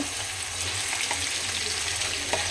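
Fish pieces frying in hot oil give off a steady, close sizzle that crackles and spits continuously throughout, with no voices.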